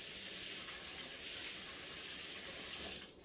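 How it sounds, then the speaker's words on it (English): A kitchen tap runs steadily as something is rinsed under it, an even hiss of water that cuts off abruptly just before the end. No voices. "I'm gonna rinse this off."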